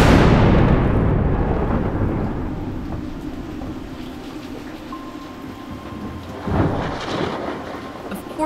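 A thunderstorm at sea, heard from a sailing boat: a loud close thunderclap rolls off over several seconds into steady rain hiss, and a second, softer rumble swells near the end.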